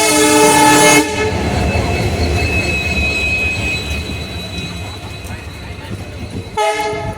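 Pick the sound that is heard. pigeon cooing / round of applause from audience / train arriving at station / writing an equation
train arriving at station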